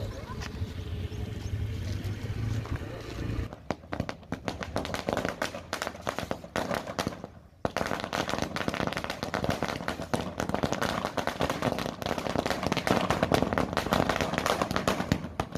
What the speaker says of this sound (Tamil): குடியிருப்பு வாசிகள் அதனை பட்டாசு வெடித்து வரவேற்றுள்ளனர்